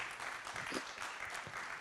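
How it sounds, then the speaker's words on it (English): A short stretch of applause for conference panelists, a dense, moderately distant patter of many hands clapping. "Please give a round of applause to these great panelists here."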